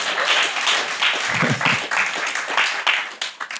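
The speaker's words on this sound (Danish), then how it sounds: "så klap lige alle fædre i dag" A short burst of audience clapping at a Danish Constitution Day speech, honoring fathers on Father's Day; moderately loud, dense applause over a few seconds with a brief murmur of voices partway through.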